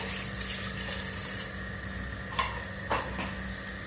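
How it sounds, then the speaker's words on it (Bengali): Water pours from a tap into a pressure cooker, a steady close hiss of running water with a faint hum underneath and a couple of brief knocks. "কুকারে জল দিয়ে দিলাম"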